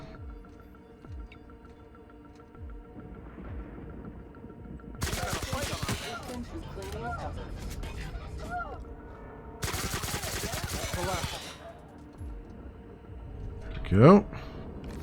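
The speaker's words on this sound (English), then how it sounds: "Stand back here and we'll shoot this guy" Shooting an enemy in The Outer Worlds brings two dense bursts of rapid gunfire, each lasting a few seconds, with quieter in-game noise between them and a short, sharp sound near the end.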